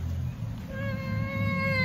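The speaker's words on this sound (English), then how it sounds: "That's right, there's the cat up there." A cat gives a single drawn-out meow outdoors near a garden being tilled, fairly close and clear over a low background rumble.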